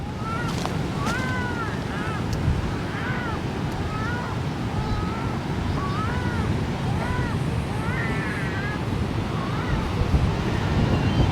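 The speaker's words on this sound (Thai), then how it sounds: "วันนี้ลมแรงนะครับ" Strong wind and waves at a beach, a dense continuous roar of surf and gusting wind buffeting the microphone, with faint higher whistling tones drifting through.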